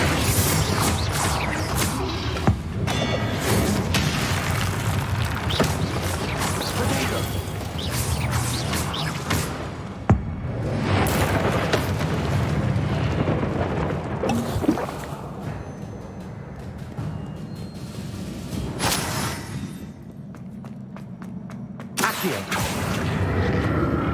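Confringo fire spells burst repeatedly during combat in the game Hogwarts Legacy, a loud, continuous wash of explosions, crackling magic and mechanical clatter with several sharp booms and no pauses.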